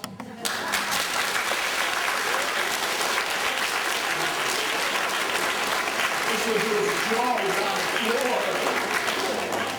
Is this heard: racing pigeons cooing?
no